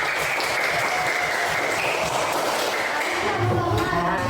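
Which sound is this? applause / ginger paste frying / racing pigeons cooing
applause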